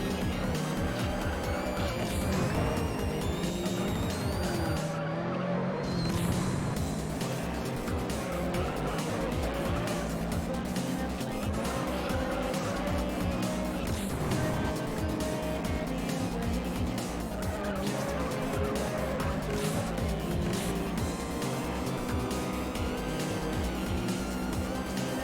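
A racing car in the video game Juiced roars continuously at high revs through gear changes, with tire squeal and skidding mixed in under dense, loud game audio.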